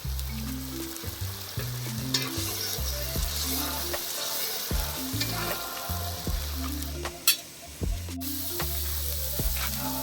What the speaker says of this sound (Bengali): মাছের ঝাল রান্না হচ্ছে এখন। পেঁয়াজ বাটা, গোটা গরম মশলা, তেজপাতা, শুকনো লঙ্কা দিয়ে দেওয়া হয়েছে।